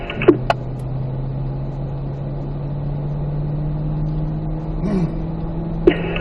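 Car engine pulling steadily in 4th gear, a sustained mid-pitched drone that rises slightly in pitch, with a few brief clicks and a small bump near the end, fairly close and alone.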